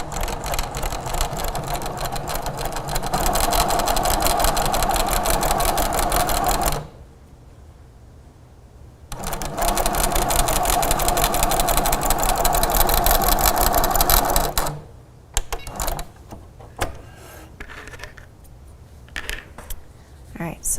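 Grace Co. Little Rebel sewing machine quilting a table runner, two long steady runs of stitching close up separated by a short pause, then lighter intermittent clicks and short bursts.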